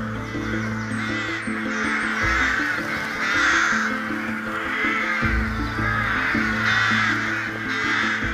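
Rooks caw repeatedly and loudly at a breeding colony as a falcon is flown to unsettle them, harsh overlapping calls filling the whole stretch with a steady low hum beneath.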